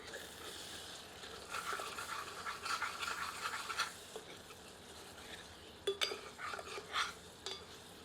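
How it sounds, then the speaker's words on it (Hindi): A spoon stirs Lahori palak spinach chicken curry in a pot, giving soft intermittent scraping and clinking against the metal, fairly quiet, with a couple of sharper knocks near the end and no talking. "स्टर करते हैं।"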